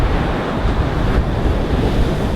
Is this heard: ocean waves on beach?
yes